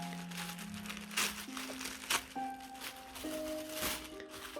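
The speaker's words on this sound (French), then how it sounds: "On a eu du petit papier bulle en plus" Small bubble wrap from a subscription box crinkles quietly in several brief, irregular bursts close by, under a faint background tone.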